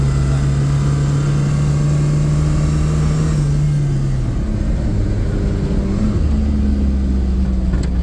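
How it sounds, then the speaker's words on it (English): A Volkswagen LT40 4x4 van with a 180 hp TSI engine and eight-speed automatic climbs a hill, its engine droning steadily under loud road and wind noise, then dropping a gear and rising in pitch as it accelerates. "We're climbing a hill right now. If I punch on the brake, it will downshift and accelerate."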